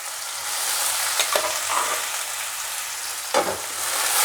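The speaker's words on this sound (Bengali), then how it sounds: "এবার সবজিগুলো আমি কুকার থেকে এতে সমস্ত দিয়ে দিচ্ছি।" Boiled mixed vegetables, including beetroot, are tipped from a pressure cooker into a hot pan for curry and fried with a steady loud sizzle, broken by a few scraping stirs of the spoon.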